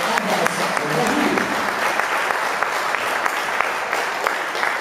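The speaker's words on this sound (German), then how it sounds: "Nochmal hier Applaus für die beiden Jungs" Steady, dense applause from the crowd at an under-21 amateur boxing bout after the verdict, a continuous wash of clapping at even loudness with occasional sharper claps standing out.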